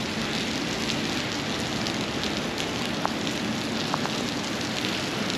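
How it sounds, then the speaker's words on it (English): Steady rain pours down during a tropical storm in Charlotte, a dense, even wash of patter with a few sharper drops standing out and no voices. "it is windy, it is rainy"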